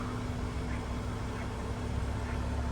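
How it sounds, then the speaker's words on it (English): A Jeep Wrangler JL engine idles steadily with a low, continuous exhaust rumble and a constant hum, no revving, close by. "This is that idle."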